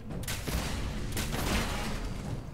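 Loud, sustained gunfire from a weapon in the video game Fallout 4, a dense burst of rapid shots with sharp cracks around the half-second and one-and-a-half-second marks, filling the whole stretch without speech.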